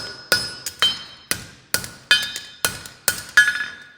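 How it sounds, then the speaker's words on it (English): A blacksmith's hammer strikes hot metal during basic forging, delivering quick light blows from the round face: about nine sharp, ringing metallic hits in a fairly even rhythm, close and loud with no talking. "using the round of my hammer, hitting down, starting with quick light blows"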